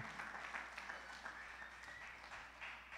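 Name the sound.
congregation applause in church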